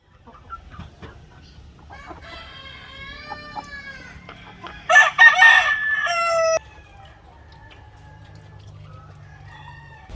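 Black Australorp hens cluck and murmur close by, then a rooster crows loudly once, followed by more soft clucking from the flock.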